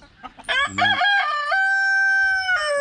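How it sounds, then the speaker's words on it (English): A farm rooster crows loudly and close by, one long drawn-out cock-a-doodle-doo with a few short clucks just before it. "That's the rooster."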